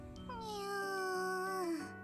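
A human voice imitates a cat's meow, producing one drawn-out, nasal, slightly falling mew, close and fairly clear, that ends in a short downward slide.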